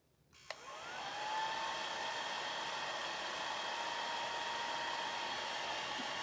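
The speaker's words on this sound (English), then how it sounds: "now let's give this a quick dry as well" A handheld hair dryer clicks on and blows steadily to dry a craft project, a loud, even whoosh with a faint whine that runs without a break after the switch.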